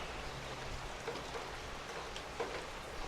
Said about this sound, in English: Y'all know it's raining outside.